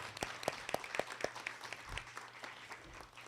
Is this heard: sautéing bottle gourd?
no